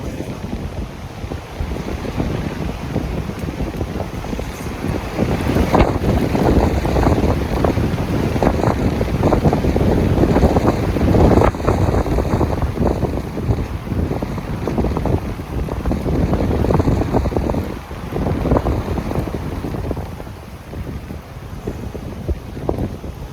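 Loud, blustery wind roars across the microphone in surging gusts in Tennessee, rising and falling for over twenty seconds with a rushing, buffeting texture.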